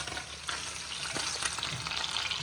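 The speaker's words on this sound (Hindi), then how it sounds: "और इधर हमारी चिकन ब्राउन हो चुकी है, आप सब देख सकते हैं इसका कलर चेंज है।" Chicken browns in a hot pan for a macaroni dish, giving a steady bright sizzle and crackle with a couple of stirring scrapes.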